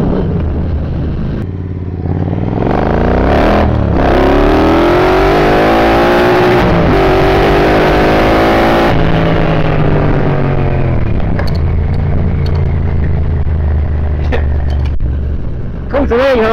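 A Triumph Bobber motorcycle accelerating hard, its engine note climbing loudly through the gears with brief dips at each shift, close and dominant over faint wind.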